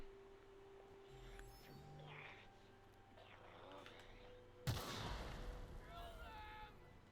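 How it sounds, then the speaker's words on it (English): A single sharp, loud gunshot bursts out in the video game The Outer Worlds after a few seconds of quiet ambient game sound, followed by a decaying rumble. "You didn't hear that gunshot?"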